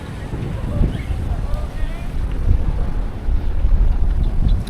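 Strong wind buffets the microphone at a scenic mountain overlook, a loud, rough rumble that gusts unevenly throughout, with people's voices faintly present beneath it.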